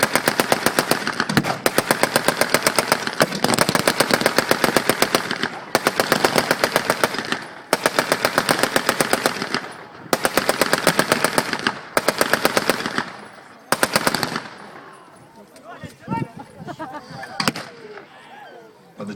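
An American Browning machine gun firing long bursts at a WW2 reenactment at Dover Castle, rapid loud rattling repeated in several strings with short gaps, then fading to scattered shots and distant noise.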